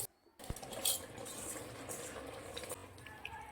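Washed, drained rice goes into cooked mutton in a pot for biryani, with a metal clank as it is added and then a quiet bubbling hiss under slow stirring scrapes.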